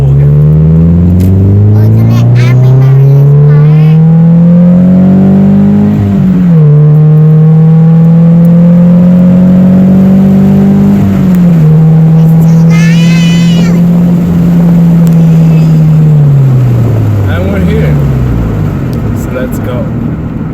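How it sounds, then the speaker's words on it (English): A Scion FRS sports car accelerates hard through the gears from inside the cabin, its engine rising in long loud sweeps, briefly dipping at each shift, then easing off at the end. "Alright, I'm gonna do a pull again."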